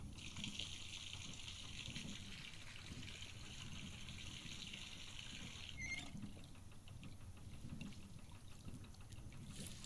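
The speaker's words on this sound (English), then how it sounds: "Place it in the bathtub with the piggy and turn the water on." Water gushes steadily from a tap into a bathtub in the video game Botany Manor, a continuous close pour with a faint pattering texture and no talk.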